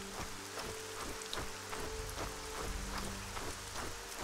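Steady rain falls in the fantasy role-playing game Arcania (Gothic), a dense constant hiss with scattered drop patters and a low rumbling hum beneath it, heard alone with no voices.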